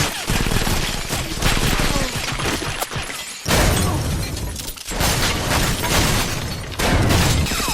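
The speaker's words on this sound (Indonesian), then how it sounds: "Jane yang sudah menunggu dari tadi langsung menembaki John dengan shotgun" Shotgun gunfire in a film fight scene blasts in dense, loud bursts with crashing, shattering impacts. The noise is broken by short gaps and there is no talk.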